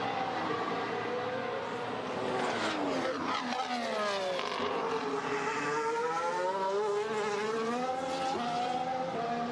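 Formula 1 cars screaming around the Bahrain Grand Prix circuit during practice, high engine whines rising and falling in pitch as they pass and shift, loud and continuous.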